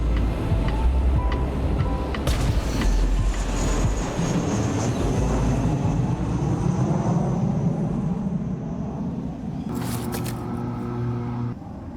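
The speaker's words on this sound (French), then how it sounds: "on est dans l'avion" A steady airplane engine drone plays during a flight in the video game Fortnite, a loud continuous roar with faint tonal game sounds on top and no talking.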